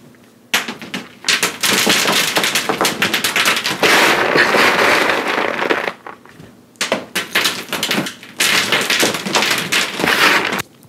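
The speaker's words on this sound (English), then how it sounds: "I'm just dropping a bunch of pretzels so they fall like rain." Handfuls of pretzels rain down onto a surface in two long bursts, a dense, loud clattering patter of many small crunchy pieces landing close by, separated by a brief lull.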